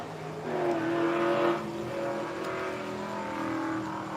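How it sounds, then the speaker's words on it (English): A car engine revs outside, rising to a sustained drone and easing back, then holding at a steady pitch, heard at a distance and fairly loud. "Oh, somebody's revving"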